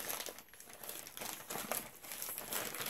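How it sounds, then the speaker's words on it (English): A plastic bag from a holiday beauty mystery haul is cut open at the top, giving close, steady crinkling and rustling of plastic for a few seconds with no talking. "I'm gonna go ahead and cut the top off of this bag to see what we have."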